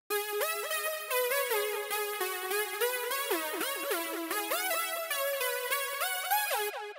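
A bright synth lead layer in an electronic track plays a fast, bouncy pattern of gliding, pitch-bending notes, loud and continuous without other sounds.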